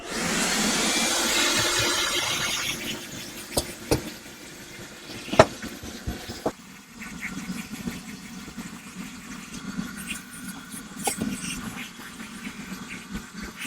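A vacuum cleaner whirs near at hand on car carpet, its pitch shifting as the nozzle moves, with occasional bumps and knocks against surfaces.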